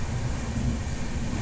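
A long-distance passenger train runs on its rails with a steady, heavy low rumble and dense rolling noise throughout.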